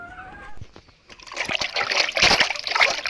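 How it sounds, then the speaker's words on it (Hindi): Small chopped fish pieces are rinsed in water in a village kitchen, with a quiet trickle at first that grows into steady splashing and sloshing as the fish are swished around. "मछली धो रहा है पानी में।"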